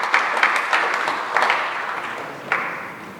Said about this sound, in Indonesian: Tepuk tangan untuk Sebaut dan Immanuel